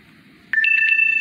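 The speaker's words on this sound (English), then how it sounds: "Ah, my phone has a low battery." A phone gives a short electronic low-battery alert, a quick run of bright beeping tones followed by a sustained tone, loud and close against a quiet background.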